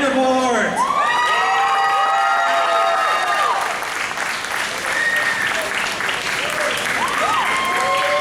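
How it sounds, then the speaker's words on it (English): A comic convention audience applauds and cheers loudly in a big hall for a guest's entrance, with sustained clapping, high whoops and a voice announcing over the din. "Please give a super welcome to the incredible, talented Laura Vandervoort."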